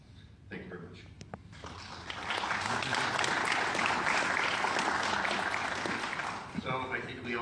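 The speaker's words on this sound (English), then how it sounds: "So let's give him another round of applause." An audience at a lecture on forensic analysis of the D.B. Cooper money bursts into applause after a presentation, the clapping swelling to a loud, sustained roll and then fading, with a voice speaking before and after it.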